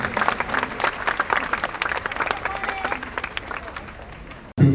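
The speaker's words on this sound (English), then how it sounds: "A round of applause, ladies and gentlemen, for the dog teams." An audience at a Singapore Police Force show claps for the police dog teams, dense steady applause from a crowd in a large space that cuts off abruptly at the end.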